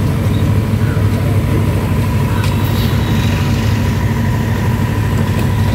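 A vehicle engine runs steadily as riders set off near Nawabganj, Gonda, a continuous low rumble close by with no break, faint voices barely present.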